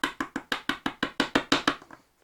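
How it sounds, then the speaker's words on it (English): A pear-shaped Tonal Applicator rubber stamp taps on ink about a dozen times in a quick, even rhythm, each a close, soft thud, slowing and fading at the end. "it looks like this little pear, and you kind of tap on ink"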